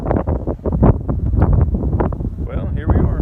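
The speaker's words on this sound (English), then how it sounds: "Can you tell it's windy?" Strong gusts buffet the microphone at an airport before a Robinson R44 Raven II helicopter flight, a loud, rough, rumbling roar that runs the whole time under close speech.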